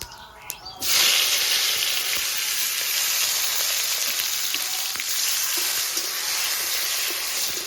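Chopped tomato with bay leaves, dried red chillies and whole cumin hits hot oil with a sudden loud hiss, then settles into a steady, even sizzle with faint stirring scrapes and no talking.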